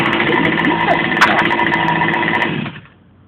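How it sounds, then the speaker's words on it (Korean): A Goped scooter's 29cc engine, started with a new easy starter, runs loud and close with a high buzzing idle, then quickly cuts off and drops into near silence. "다시 한번 시동 걸어보고"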